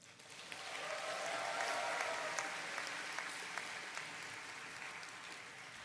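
A large graduation audience in a ceremony hall claps continuously for several seconds, swelling to a steady dense roar of hands and then easing slightly, with no talk over it.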